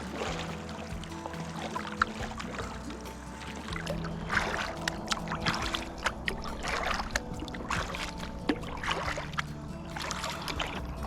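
Soft splashes and water trickling around a loaded kayak's hull as it slides into calm Lake Superior water, with light knocks and paddle sounds, quiet and close.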